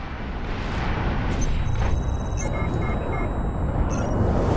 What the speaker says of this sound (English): Collision alarm.